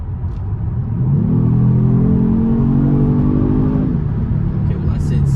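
A Kia Stinger under hard acceleration from 60 to 70 mph with the automatic transmission shifting on its own, a loud sustained engine roar rising in pitch over several seconds inside the cabin before easing off with road rumble.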